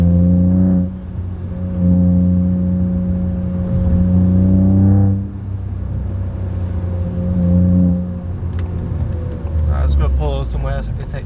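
A Ford Fiesta Zetec S Black Edition fitted with a Cobra exhaust drives and revs, its droning engine note holding steady, then swelling and falling through several rev changes, loud and close from inside the car.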